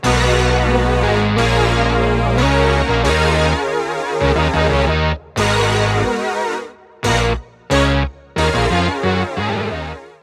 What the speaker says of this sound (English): And that's the JD850, which is an emulation of a Roland keyboard called the JD800.